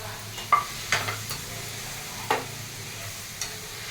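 Tomatoes frying with onions in a pan for an okra-and-tomato stew, a soft steady sizzle with a few light scraping stirs.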